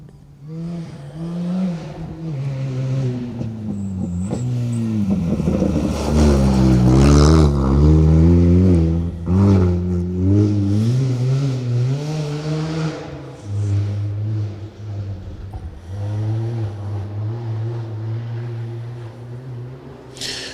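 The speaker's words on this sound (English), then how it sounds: "I think we've got another Subaru to come out." A Subaru rally car powers through a forest stage, its engine rising through loud revving gear pulls as it approaches, peaks close by and then holds a steady drone while moving away, with no voices over it.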